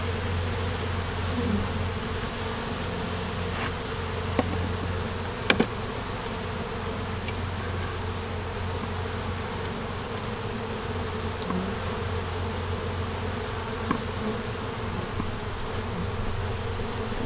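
Honeybees buzz from an opened beehive as a steady, close, unbroken drone, with a few faint clicks and knocks from handling the hive.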